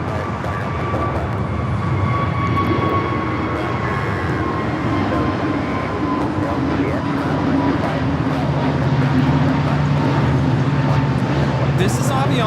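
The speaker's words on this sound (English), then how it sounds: "This is Avianca 557 taking off to Guatemala City on the A320neo" An Avianca Airbus A320neo taking off at LAX, a steady loud engine roar with rising whine tones that holds for the whole stretch, while people talk over it.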